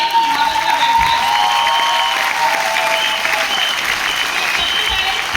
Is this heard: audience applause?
yes